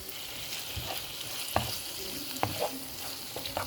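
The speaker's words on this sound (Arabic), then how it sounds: "هنزل بقى دلوقتي بالجمبري" Shrimp hit a hot wok already holding sizzling onion and garlic, crackling and frying loudly up close, with scattered clicks of stirring against the pan.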